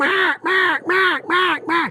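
A duck call mimics mallard quacks: five loud, evenly spaced nasal quacks in a steady rhythm, close up with no talking.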